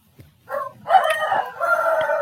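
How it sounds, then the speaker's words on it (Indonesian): A rooster crows in the early morning in Magelang, a single drawn-out cock-a-doodle-doo rising after a brief lead-in and holding steady for nearly two seconds at moderate distance, with no talking. "mohon maaf kalau misalkan ada suara ayam ya teman-teman"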